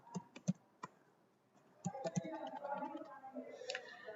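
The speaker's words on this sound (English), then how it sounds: "So I'm just typing" Computer keyboard typing while setting up a Jenkins admin user on Ubuntu 18.04, a few sharp isolated key clicks, then a quicker run of keystrokes under a voice.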